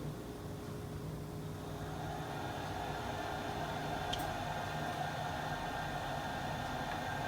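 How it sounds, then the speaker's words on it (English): Repaired cooling fan of a Fluke 199C ScopeMeter spinning quietly, a soft, steady whir under a constant hiss, with no rattle or change in level throughout. "this fan is now running very quiet"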